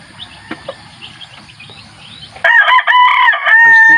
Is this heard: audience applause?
no